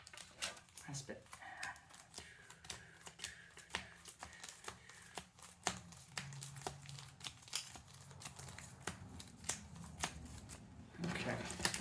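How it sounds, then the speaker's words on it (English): A deck of cards for the game The House of Wisdom is shuffled repeatedly up close, a rapid series of crisp riffling flicks and snaps, with faint talking in the background. "a couple of shuffles and ready to play"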